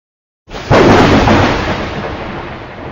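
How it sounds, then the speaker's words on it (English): Rolling thunder bursts in suddenly after a moment of silence, a loud deep crack that swells and then rumbles on, slowly fading over a couple of seconds. "When you hear thunder rolling, the sound continues for some time."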